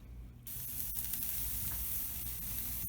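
Onions frying in a pan hiss into a loud, constant sizzle that starts abruptly and holds steady, with a few faint clicks and no talking.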